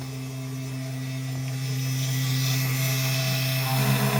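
A mini CNC machine runs at a slow feed of about 50 millimeters a minute, giving a steady electrical hum and whine that swells slightly and holds evenly throughout.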